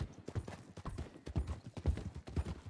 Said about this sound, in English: A lot of horses riding by.